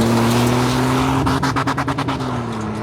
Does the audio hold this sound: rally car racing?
yes